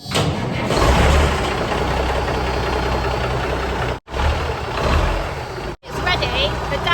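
A diesel engine rumbles steadily at idle, loud and close, with a low knocking drone broken by two brief dropouts.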